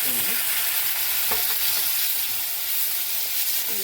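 Onions sautéing in a pan for kadalai paruppu kuttu, a loud, close, continuous sizzle broken by occasional stirring clicks and scrapes, with no voices.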